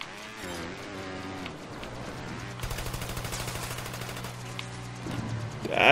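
Rapid automatic gunfire in the video game Trials of the Blood Dragon, a dense rattling burst that runs through the middle and later part over a steady game soundtrack.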